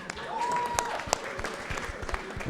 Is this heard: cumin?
no